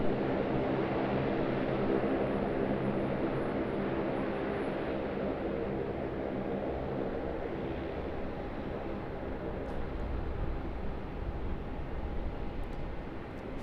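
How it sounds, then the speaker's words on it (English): A Finnair Airbus A330 operated by Qantas rumbles at Sydney Airport, a broad steady roar of jet noise at a distance, slowly easing, with no talk. "Finnair Airbus A330 operated by Qantas"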